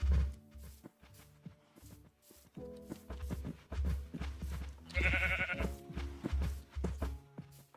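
Blocky Minecraft sheep bleat in short wavering calls, one louder and closer near the end, mixed with soft rhythmic stepping and shuffling noises in the game world.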